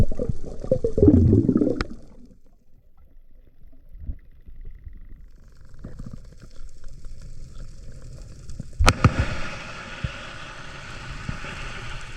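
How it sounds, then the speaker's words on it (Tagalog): A blast-fishing explosion goes off underwater less than 100 meters from a spearfisher in Philippine waters: a sudden sharp crack around the nine-second mark, followed by a sustained rushing underwater roar after a stretch of faint bubbling. "Sobrang lakas ng pagsabog mga ka-adventure, mga less than 100 meters away lang sila"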